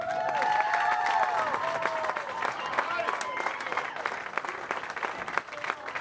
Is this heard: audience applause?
yes